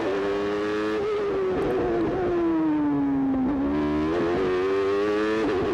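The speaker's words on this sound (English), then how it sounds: "Starting his last race for McLaren from pole position, Senna went straight into the lead on the green light, ahead of Prost, Hill and the rest." A pack of 1993 Formula 1 cars accelerating away from a race start, a loud, continuous high engine roar with pitch falling and climbing through gear changes as several cars scream past close together.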